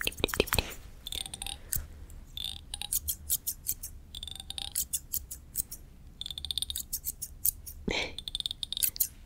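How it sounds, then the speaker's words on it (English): Scissors snip close to the ear in quick repeated cuts, with irregular pauses between bursts of sharp metallic clicks and no talking. "Do you like the sound of the snip?"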